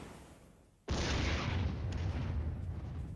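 An artillery strike in a modern war strategy game erupts after a quiet moment into a sudden heavy blast that rolls into a sustained, loud, rumbling roar of explosions destroying tanks, with no talking.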